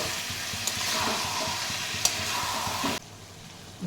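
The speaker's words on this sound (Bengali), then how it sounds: "সব একসঙ্গে ভাজবো এখন।" Masala paste and peeled garlic cloves fry together in a pan, a dense crackling sizzle with occasional spoon taps that drops away abruptly to a quiet hiss near the end.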